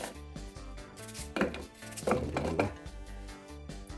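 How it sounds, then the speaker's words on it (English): A knife chops apples on a cutting board for a blended summer drink: several close, crisp chopping knocks, clustered in quick bursts over soft background music. "We've got some apples. You know, I'm just gonna cut them up, put them in the blender."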